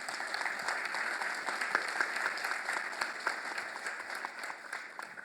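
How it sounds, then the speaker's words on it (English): An audience claps in a continuous round of applause, moderately quiet and somewhat distant, with scattered sharper claps standing out from the steady patter. "Will you give Virginia a round of applause?"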